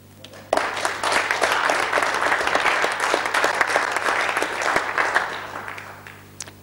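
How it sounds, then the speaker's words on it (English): Council chamber audience applauding during a debate, a dense burst of many hands clapping that starts abruptly, holds steady for several seconds, then thins out near the end. "let us all applaud Jamila, Rian, Eric, and all that Wandsworth has done for them"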